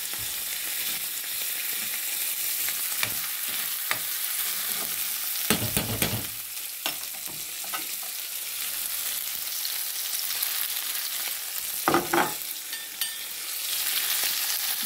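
Fish masala curry frying and being stirred in a pan, a steady close sizzle broken by repeated louder scraping stirs, with no talk.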